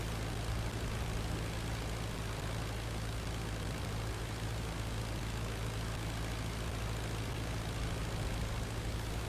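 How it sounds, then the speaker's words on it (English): Steady low drone of an Albatros biplane's propeller engine in the Flying Circus flight game, a constant unbroken hum at moderate level with no talk over it. "this plane that I'm flying, trust me, it's a slow plane"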